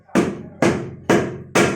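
A hammer strikes something hard four times at an even pace, each blow a loud, sharp, close crack with a brief fading ring before the next.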